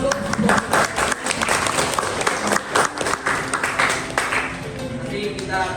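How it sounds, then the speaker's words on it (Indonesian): Classroom audience claps hands together in steady, overlapping applause that fills the room, with children's voices and shouts mixed in throughout. "Boleh tepuk tangan dulu."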